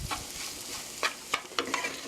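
Sizzling rice, vegetables and pear being stir-fried in a pan, with a steady crackle and several sharp scraping stirs close by.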